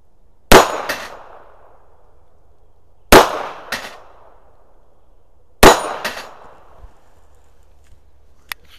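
An H&K HK4 pistol in .380 fires three shots about two and a half seconds apart, each a sharp crack followed by the metallic clang and ringing of steel target plates, loud and close.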